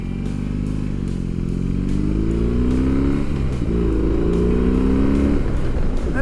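A small motorcycle engine on a demo ride at an outdoor motorcycle show drones loud and close, with its pitch climbing and falling as the throttle is worked and a steady rumble underneath, plus light rattles and wind.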